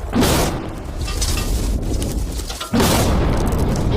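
A TNT blast set off by pressing a button goes off as a loud, broad explosion, then a second heavy boom hits near the end, with rumbling debris noise between the two.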